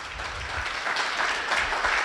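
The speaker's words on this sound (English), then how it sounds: "I would call for a warm round of applause" Applause from a conference audience at the close of a panel on community network policy, a steady dense wash of clapping at moderate level, continuous and without talk.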